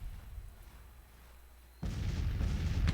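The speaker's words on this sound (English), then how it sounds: "I don't know why the infantry's firing so slow" Infantry volley fire in a Civil War battle video game: a sudden broad roar of massed musket fire bursts in after a quiet ambient stretch and keeps rumbling, distant and heavy.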